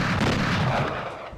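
Gunfire from the PS1 game Hellboy: Asylum Seeker, a dense, loud burst of shots packed close together with no voices over it.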